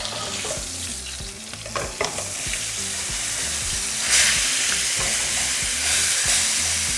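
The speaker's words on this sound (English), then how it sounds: "we're going to sear for 3 minutes on each side" Steady sizzling of meat for beef birria searing in a hot frying pan, with occasional stirring clinks and louder crackling bursts, continuous and close.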